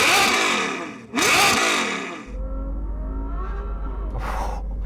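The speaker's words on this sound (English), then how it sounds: "Let's hear that naturally aspirated V12 from the Ferrari though." Naturally aspirated V12 in a Ferrari GTC4 with an aftermarket exhaust, revved hard twice in loud, rising bursts up close, then settling into a steady idle with a final lighter blip.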